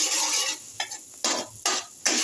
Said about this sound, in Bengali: একটু নাড়িয়ে নেব।